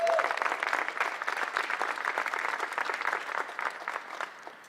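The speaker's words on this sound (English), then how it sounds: "That deserves a round of applause" Audience applause at an event celebrating one year to the 2024 U.S. Olympic swimming trials in Indianapolis, a steady round of clapping that gradually tapers off toward the end.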